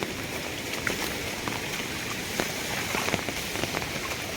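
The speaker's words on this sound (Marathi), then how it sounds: "अतिशय मुसळधार पाऊस" Heavy downpour pours onto a tomato field in Nashik, a dense, continuous hiss of rain with scattered sharper drop impacts, steady and loud throughout.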